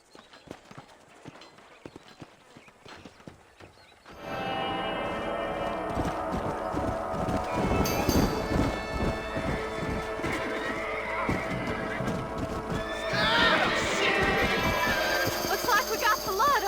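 Horses galloping in the western video game Red Dead Redemption: quiet start, then loud rapid hoofbeats and whinnies burst in and continue under music and voices.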